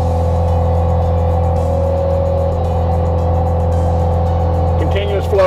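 A Cat machine fitted with a landscape tiller attachment runs at high idle, a steady loud engine drone with a strong low hum that holds constant throughout.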